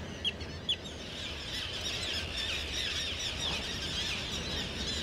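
A dense chorus of harsh, squealing calls from a seabird colony of laughing gulls, black guillemots and common, Arctic and roseate terns fills the air continuously, many birds overlapping at once, with a couple of sharper cries standing out early.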